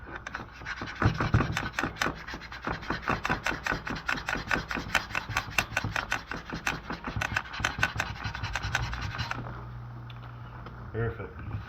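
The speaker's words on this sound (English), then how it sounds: "pulling all that old wax off" Old wax is scraped off Salomon aggressive inline skates in quick, rhythmic rasping strokes, close and fairly loud, stopping near the end, with a voice in the background.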